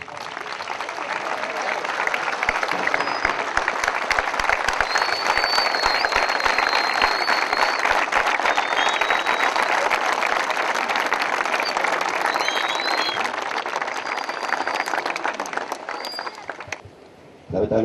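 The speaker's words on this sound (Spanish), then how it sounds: "luego un fuerte aplauso" A crowd at a children's neighborhood football tournament in Cañuelas applauds in tribute, with sustained loud clapping that runs steadily for many seconds before fading out at the end, with a few whistles and shouts mixed in.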